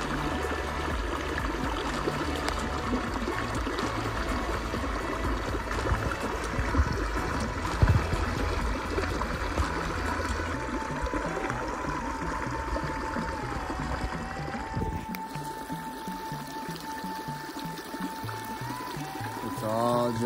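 Water flows steadily in a stream at a swimming hole called the Devil's Drinking Cup, a continuous close rushing and trickling wash that carries on unbroken throughout, with no talk over it.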